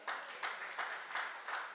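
A church congregation claps in rhythm during a Sunday afternoon service, five or so evenly spaced claps on a steady beat, moderately close and filling the room.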